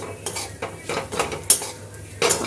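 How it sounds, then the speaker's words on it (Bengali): Peanuts frying with onion and green chili in a pan. A utensil stirs them in repeated clinks and scrapes against the metal over a low sizzle, close and without speech. "বাদামটা দিয়ে দিলাম বাদামটা দিয়ে ভাজবো"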